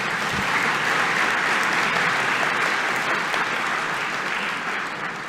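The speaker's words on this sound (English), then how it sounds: "Give yourselves a big round of applause" Graduates and guests applaud at a Melbourne Polytechnic graduation ceremony, a steady wash of clapping from a large audience that fills the whole stretch and fades slightly at the end.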